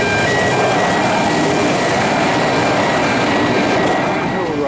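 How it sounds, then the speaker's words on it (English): A two-car diesel electric passenger train bound for Belair rolls past over the Goodwood Flying Junction, a loud, broad continuous roar with tonal whine, steady and close throughout. "This passenger train to Belair is going over the top of the Goodwood Flying"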